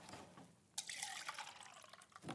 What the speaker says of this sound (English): I'm going to tip it out there and top up.